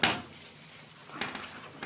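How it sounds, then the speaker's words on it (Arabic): Rice is stirred into boiling tomato sauce in a cooking pot, with a sharp clack of a utensil against the pot at the start and another light knock partway through amid soft bubbling. "هبدا بقى ان انا هنزل عليها الرز كده وهقلبه برضو معاها. هديله بس تقليبه كده على السريع"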